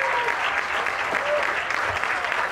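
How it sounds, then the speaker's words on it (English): A crowd at the Chi Chi Charity Classic charity event gives teachers and staff a big round of applause, loud and sustained clapping throughout with a few voices and cheers mixed in. "A big round of applause."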